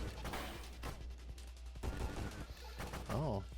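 Rapid video game gunfire crackles in quick bursts amid a busy mix of effects and game noise in a mining build, with a rising electronic tone near the end.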